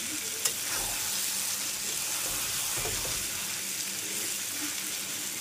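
Chicken meat sizzles steadily as it is sautéed and stirred in a pan, a constant close frying hiss with occasional scraping stirs and no talking.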